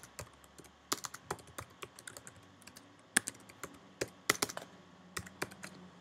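Someone types a command on a computer keyboard, with irregular bursts of close, crisp key clicks and a few heavier keystrokes spread over six seconds against quiet room hiss.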